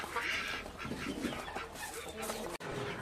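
A mean rooster with clipped wings in a chicken pen, clucking and calling close by in a steady busy stretch of fowl noise, with other birds and livestock faintly around it.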